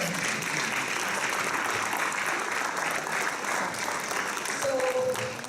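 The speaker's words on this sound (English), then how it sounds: "So thank you for giving him a round of applause." Sustained audience applause at a Hawaii US Senate campaign event, a dense steady wash of clapping from a sizable crowd lasting throughout, with faint voices under it.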